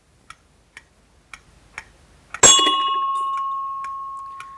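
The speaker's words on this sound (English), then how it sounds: "it struck the bell" A heavier rotating mass swings around with faint regular ticks, then strikes a metal bell once, giving a sharp clang that rings on with a long, slowly fading tone.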